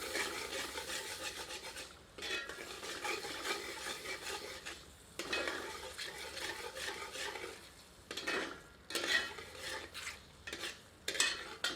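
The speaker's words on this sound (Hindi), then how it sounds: "अब इसे ढककर 7 से 8 मिनट धीमी आंच पर पकाते हैं, पर बीच बीच में करछी चलाते रहते हैं" A ladle works through keema masala as it cooks slowly on low heat, making continuous rasping, scraping strokes against the pan with brief pauses and a soft sizzle underneath, heard close up.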